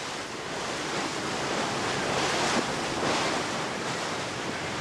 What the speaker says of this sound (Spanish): la mar se agita y golpea fuerte contra los roquedales